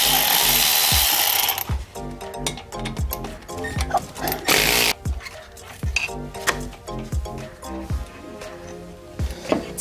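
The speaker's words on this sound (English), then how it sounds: "Let's start off by removing the brake caliper here." A power tool removes the brake caliper on a Jeep Wrangler Dana 30 front axle, opening with a loud close whir, then metallic clanks and knocks, with a second short burst of the tool midway.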